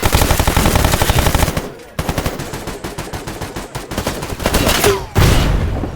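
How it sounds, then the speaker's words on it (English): Rapid automatic enemy gunfire in the video game Stalker GAMMA, set at the CNPP, with loud sustained bursts of shots, a brief pause near the two-second mark, then more fire and a sharp final blast. "they are all around us and they can shoot us through these gratings."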